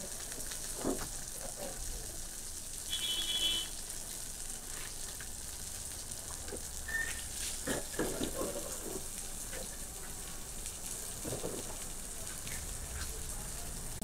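Green plantain frying in oil left over from frying hilsa fish gives a faint, continuous sizzle with scattered small pops and occasional utensil clinks.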